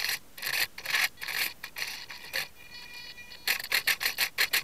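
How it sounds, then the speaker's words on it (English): Swashplate servos on an RC helicopter stepping the swash around clockwise, producing a series of short, close, buzzy whirring bursts separated by brief pauses, with a quieter stretch midway before the bursts resume. "now I'll just move around the swash in a clockwise manner"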